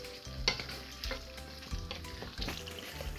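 Plum tomatoes frying with goat meat in a pan, with steady sizzling and several scraping stirs of a spoon at a close, moderate level, no voices.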